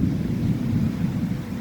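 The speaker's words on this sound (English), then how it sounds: "Hope the winds die down so you can see the rain." Strong wind storm with rain in Charters Towers, a continuous loud low roar of gusting wind buffeting the microphone, steady and rumbling throughout with no voices.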